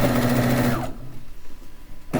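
A sewing machine stitches the border of a quilt in a steady, close whir for under a second, then stops and leaves quiet room tone before a brief restart at the end.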